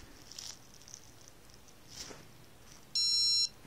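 A Casio game watch in game mode lets out a short, thin electronic beep as its game starts, a brief tone near the end following some faint handling noise.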